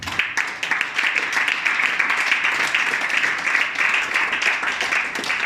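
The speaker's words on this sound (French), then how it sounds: "Donnons acclamation au grand roi ce matin." Church congregation applauding during a French-language sermon, steady dense clapping of many hands throughout, fairly loud and even, with no break in the sound.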